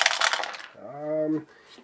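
Five dice tumble in a short, bright clatter during a Marvel Zombies board game, followed by a brief voiced tone before the rattle fades.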